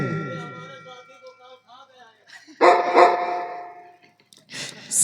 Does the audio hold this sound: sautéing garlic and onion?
no